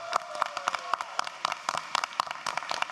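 An audience at a city school board meeting claps for a kindergarten essay winner, steady rhythmic applause from a modest crowd, fairly close and continuous.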